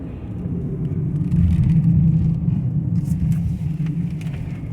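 A Jeep Cherokee Trailhawk engine rumbles steadily from inside the cab while cruising at low speed, a deep continuous drone with slight swells and road noise, heard alone.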